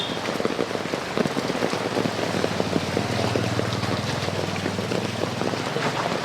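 Heavy monsoon rain in hilly Chittagong pours steadily and loudly, a dense close hiss of drops hitting surfaces with continuous patter and no voices throughout.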